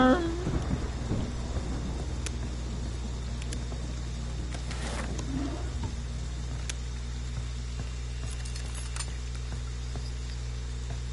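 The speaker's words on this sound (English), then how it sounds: "Storm." A thunderstorm rolls in the Friday the 13th game, a steady wash of heavy rain with deep thunder rumbling loud near the start and again midway, no talking.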